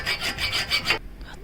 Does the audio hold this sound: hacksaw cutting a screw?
yes